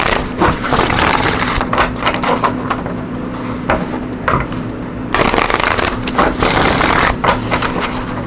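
A deck of Enchanted Map oracle cards being shuffled by hand, a steady run of riffling and sliding card sounds filling the whole stretch, close and fairly loud with no talking.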